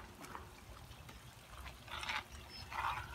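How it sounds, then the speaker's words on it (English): Stuffed pepper soup stirred in a Dutch oven, giving soft, wet sloshing and liquid swirls with two clearer splashy strokes near the end over a low background murmur. "Let's give this a stir here."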